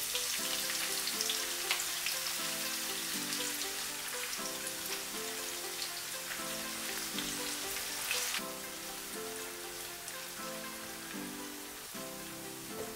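Two thinly chopped onions frying in hot oil with curry leaves for a homemade Indian chicken curry, giving a steady loud sizzle like rain throughout, under background music.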